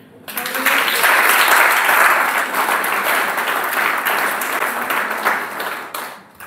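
A church congregation breaks into loud, sustained applause that swells quickly, holds dense and steady for several seconds, then tapers off at the end.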